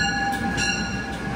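A train carries riders toward New York City, its steady rolling rumble and rail noise running continuously and loud, with a faint high tonal whine holding throughout and no voices.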